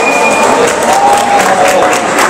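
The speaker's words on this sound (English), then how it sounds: "Give a round of applause for Little Hulk" A crowd at a comic convention costume contest in the Flint Masonic Temple bursts into steady applause and cheering, with dense clapping and a few whistles that stay loud and continuous throughout.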